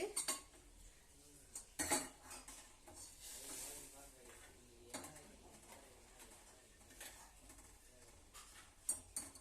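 Jaggery syrup is strained into a metal vessel, with close clinks and knocks of metal utensils and soft pouring, a faint voice and pigeon coos in the background.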